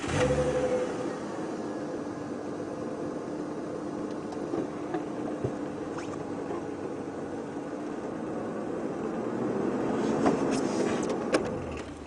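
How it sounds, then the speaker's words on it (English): A safari game-drive vehicle's engine turns over and settles into a steady idle, a low continuous rumble close by with faint outdoor ambience, swelling slightly near the end. "I'm just going to start my engine so I don't have to make a lot of noise, so Elvis can try to figure out where we are"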